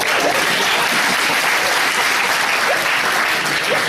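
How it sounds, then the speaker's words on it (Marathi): Dense, steady applause from a lecture audience in Pune, a continuous wash of many hands clapping at full volume with no talk over it for the whole stretch. "टाळ्या का वाजवल्या माहित आहे का?"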